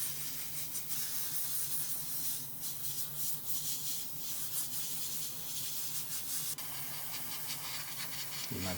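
An airbrush sprays a light coat of primer onto Lancia 037 rally model kit parts, giving a steady soft hiss close by with small pulses as the spray is started and stopped.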